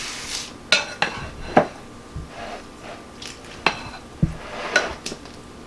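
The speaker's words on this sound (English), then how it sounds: "now we're going to slowly add the dressing and toss" Zoodles, chickpeas and avocado in a salad being tossed with dressing, giving light clinks of utensils against a bowl and soft wet stirring in irregular bursts, close and fairly quiet with no talk.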